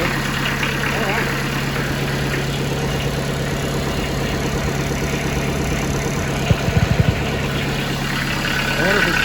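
Kubota B3200 tractor diesel engine running at a steady rough idle throughout, with a brief cluster of clattering knocks partway through and someone speaking over it.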